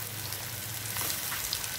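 Carrots fry in a non-stick pan with a little oil, a faint, steady hiss of sizzling heard up close for a brief moment.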